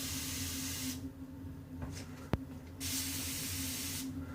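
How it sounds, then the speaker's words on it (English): Several bursts of fine mist hissing close by from a spray bottle of essential-oil-scented water sprayed onto hair, separated by brief pauses and a small click. "I have one of these like little sprayers I constantly spray."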